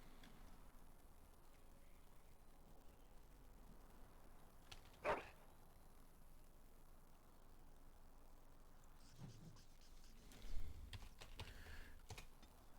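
A dog in the Dragon Age: Origins game gives a couple of short, isolated barks, one sharp bark midway and a weaker one later, over quiet background ambience.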